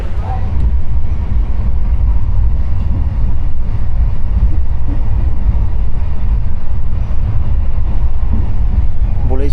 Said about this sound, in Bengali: 4টে বাজতে না বাজতেই তার আগেই ট্রেন কিন্তু আমাদের ছেড়ে বেরিয়ে যাচ্ছে জোলারপেটটাই জাংশন